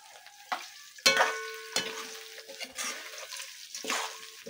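Fish drops into a pan of frying onions and garlic, setting off bursts of loud sizzling and spattering with scraping stirs between them, close and without talk.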